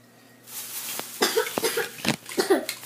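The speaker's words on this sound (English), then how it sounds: "Keep on coughing." Several sharp, wet coughs from one person, about five or six bursts in quick irregular succession, close to the microphone inside a car at a racing event, over a low steady hum.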